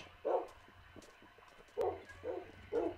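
Four short Minecraft dog barks ring out, one early and three in quick succession near the end, over a quiet background.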